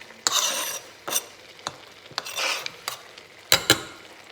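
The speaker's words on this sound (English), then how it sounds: "So now I'm going to add my carrots and my peppers" Carrots and peppers are added to a bolognese sauce in a pan, producing a series of close, irregular clatters and scrapes of a utensil against the pan, with short bursts of stirring.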